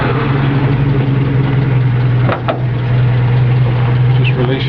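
A 1958 Ford Prefect 100E engine idles steadily and close, its low, even hum running throughout with a brief dip midway.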